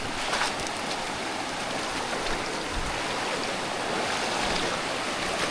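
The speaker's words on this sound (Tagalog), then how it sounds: "Tignan nyo yung mga agos ng tubig. Umaagos talaga." Water rushes in a strong-flowing stream where gold lies scattered, a steady broadband wash that stays constant throughout, close and fairly loud, with no talking.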